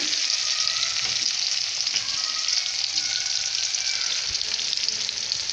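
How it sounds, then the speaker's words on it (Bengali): Eggplant slices fry in oil in a pan, giving a continuous, even hiss of sizzling that stays close and unbroken, with no talking. "এই যে ভাজা হচ্ছে বেগুন।"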